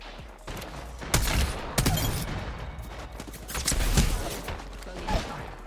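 Rapid bursts of gunfire in the battle royale game Apex Legends during a competitive match, loud, repeated volleys with mechanical clatter over a steady low rumble.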